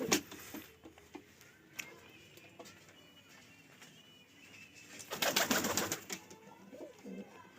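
Pigeons at a nest coo softly in the background, with faint intermittent calls and a louder burst of rustling and fluttering near the end.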